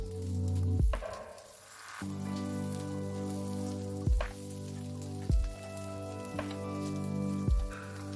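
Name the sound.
onion and capsicum frying in a pan with oil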